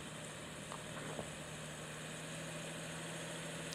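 A Land Rover Discovery 4 with a rear eDiff and all-terrain tyres, in normal terrain mode, idles with a steady, even engine hum and slight vibration, continuous and unbroken throughout.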